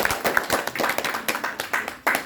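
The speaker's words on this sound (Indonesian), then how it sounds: "Ya, tepuk tangan dulu deh untuk kita." Audience clapping at a family gathering, a brief burst of rhythmic, close hand claps with distinct individual strikes.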